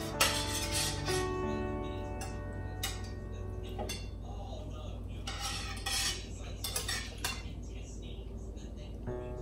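Cooked eggs in a pan being divided with metal utensils, giving repeated close clinks and scrapes against the pan in an irregular rhythm over a steady low hum.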